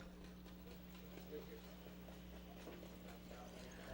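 Faint, rhythmic clip-clop of harness racing horses' hooves trotting at a distance during a race post parade, under a steady low hum and soft background voices.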